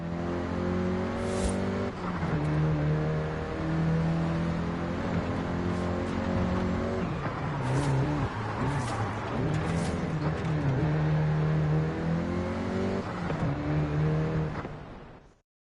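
Volkswagen Golf GTI hot hatch driven in Forza Horizon 5, its engine note climbing and dropping through gear changes in a steady loud drone, with brief tire squeals and bumps mixed in, no voices.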